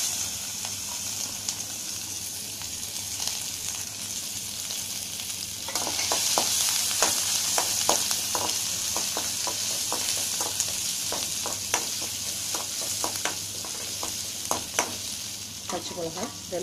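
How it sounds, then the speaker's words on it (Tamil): Onions, curry leaves and mustard seeds sauté in hot oil in a pan, a steady close sizzle that swells louder midway, with scattered crackles and pops and occasional stirring scrapes, and no voices. "கடுகு நல்லா பொரிஞ்சதும் கருவேப்பில, நெக்ஸ்ட்டு வெங்காயம்,"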